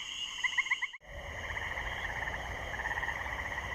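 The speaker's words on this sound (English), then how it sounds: "Tree frogs begin their nocturnal, pulsating acoustic chorus." Tree frogs call in a nocturnal chorus, a steady stack of rapid pulsing trills that overlap continuously, with a brief drop near the start before the chorus swells back in.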